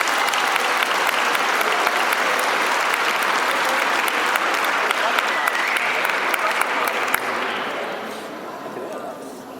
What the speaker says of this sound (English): so massive round of applause for Danielle.